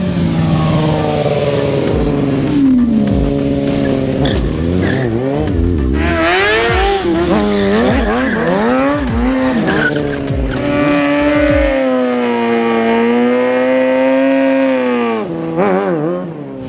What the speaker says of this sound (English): So here we are at a quite special venue to see Jason Britton and his No Limit stunt team do things on motorcycles which actually just blows my mind.